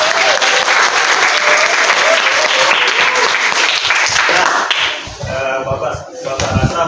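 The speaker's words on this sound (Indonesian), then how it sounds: "Beri aplaus dong buat teman-teman kita." Students in a classroom break into dense clapping, loud and sustained for several seconds, then the applause thins to scattered claps and murmurs toward the end.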